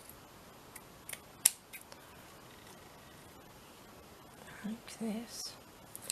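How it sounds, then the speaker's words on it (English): Scissors snipping a small piece of lace for a decoupage craft, a few soft close cuts with one crisp snip, followed by quiet, near-whispered speech. "So let's just cut a little piece of this off."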